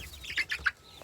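A hen clucks a few quick, close chirpy calls in a short burst on a farm, with no talking over it.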